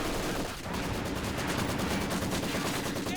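A Maxim machine gun rattles in Company of Heroes 2 amid a steady wash of battlefield gunfire, fairly faint and continuous throughout.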